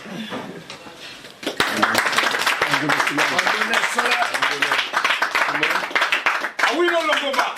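An audience at a Cameroon handball academy assembly breaks into clapping and cheering after a brief quieter start, loud and sustained, mixed with shouting voices.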